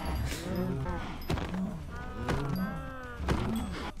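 Cows in the Minecraft video game moo repeatedly, several overlapping low calls in quick succession, close and fairly loud against a busy game background.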